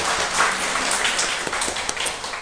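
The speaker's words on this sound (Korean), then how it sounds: "또 그렇게 인도하신 우리 하나님께 감사와 영광의 박수를 한번 올려드릴까요?" Applause from a church congregation during a Sunday worship service, a steady wash of many hands clapping at moderate distance for about two seconds, with no voices on top.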